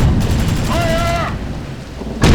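Gunfire in the German campaign of the Sudden Strike 3 war strategy game: a rumbling, booming roar of shots with a sharp, loud burst right at the end.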